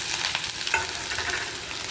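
Green chillies hit hot oil already holding mustard seeds, asafoetida and cumin for a sambhar tempering, producing a brief, close, busy sizzle and spatter with no voices.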